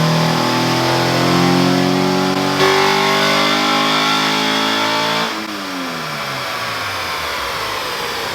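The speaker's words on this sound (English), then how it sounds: "Just a little pull, but that VTEC sounded amazing." A B18C5-swapped Honda Integra engine pulling hard on a dyno run, a loud rising rev with the VTEC crossover audible partway through, then the pitch falls away as the throttle lifts.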